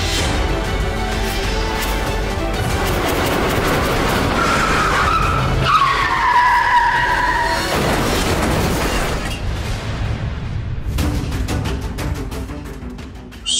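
A car skids hard to a sudden stop, a loud drawn-out tyre screech rising over engine noise and ending in a heavy thud, heard close with no talk.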